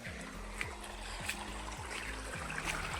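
Irrigation water pours from a pipe into a lime orchard, a steady trickling stream with a repeating low mechanical pulse beneath it at close range.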